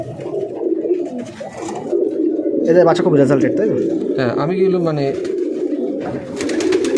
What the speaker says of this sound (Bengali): ওগুলো ম্যাচে ওড়ানোর পায়রা